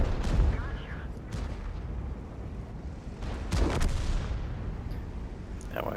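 Artillery shells thump and burst in a tank battle game on the El Hallouf map, with repeated booming impacts rolling under ongoing background rumble and faint voices.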